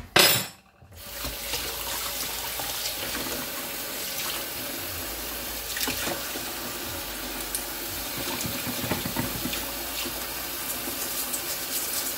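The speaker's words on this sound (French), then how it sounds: "vous nettoyez tout avec de l'eau savonneuse" Soapy water running from a tap while parts of a cat water fountain pump are washed in a sink, a steady broadband rush that continues throughout after a brief quiet start.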